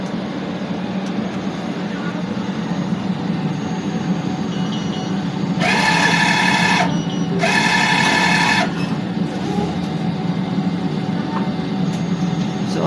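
DTF printer running a test print after a two-head nozzle clean, a steady mechanical hum with two short bursts of whirring print-head passes in the middle, close by.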